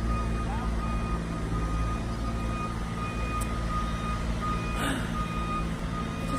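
A construction truck's reversing beeper sounds over a constant low rumble of heavy machinery at a distance, with faint talk in the background, in Bali.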